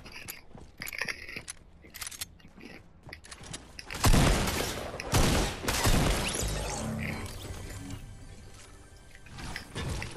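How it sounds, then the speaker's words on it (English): Rapid gunfire bursts from the video game Fortnite, starting around midway with dense crackling shots and booms, loud and close, with scattered clicks and mechanical clatter before and fading action after. "Why'd you shoot at me?"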